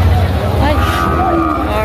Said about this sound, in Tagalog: ang ganda ng baka na ito